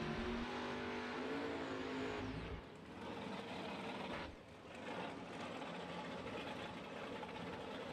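A Chevrolet Nova doorslammer drag race car roars down the strip at a bracket race, a loud sustained engine blast that rises and shifts pitch before settling into a steady distant rumble.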